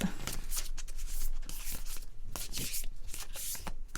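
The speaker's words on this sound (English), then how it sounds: "I feel like this deck doesn't shuffle very well" A tarot deck called the Bardo gets shuffled by hand, with a run of close, crisp riffling and slapping bursts and short gaps between them.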